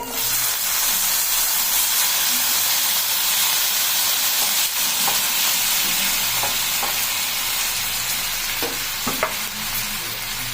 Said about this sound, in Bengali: টমেটো আর শুকনো লঙ্কা আর রসুন তিনটেই হালকায় হালকায় আমি ভেজে নেব